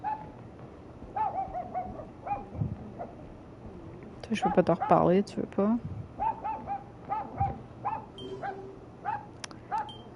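A dog barks in a burst of rapid, loud yelps in the middle of a Hercule Poirot London Case game scene, with a voice talking over quieter stretches before and after.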